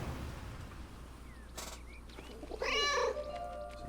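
A cat in the video game 11-11: Memories Retold gives a short, clear meow over quiet ambient background, following a faint earlier chirp.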